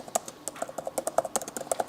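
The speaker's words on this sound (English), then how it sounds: "bad typing" Rapid, irregular clicking of keys on a computer keyboard, close and moderately loud, a steady stream of taps with no voices.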